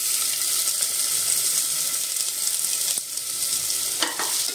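Chopped onion frying in a pan with roasted spices for a mutton paya soup, a continuous bright sizzle with occasional stirring scrapes and a couple of sharp clinks near the end.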